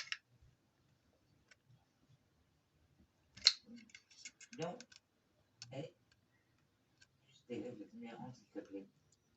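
A Dymo label maker cuts its plastic label tape with a few sharp, isolated clicks and snips, quiet and close, separated by pauses, with a person talking between the clicks.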